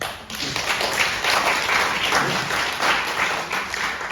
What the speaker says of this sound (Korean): 이분들에게 유류의 박수 한번 보내주시죠